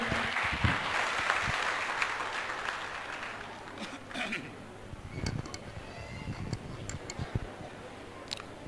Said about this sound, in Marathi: जोरदार टाळ्या वाजून स्वागत करा साहेबाचं